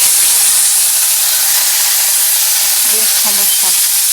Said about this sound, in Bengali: আগে ফুলকপিটা খুব সুন্দর করে ভেজে নিচ্ছি।